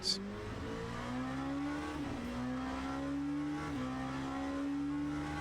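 A GT3 or P2 race car engine in the sim racing game Le Mans Ultimate, droning loudly and steadily with rising pitch through the gears and brief dips at shifts, preceded by a short sharp click at the start.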